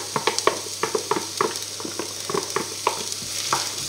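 Garlic and onion frying in a pan for eggplant lasagna, with a spoon stirring through them: a soft constant sizzle broken by regular sharp scraping and clacking strokes, close up, with no talking.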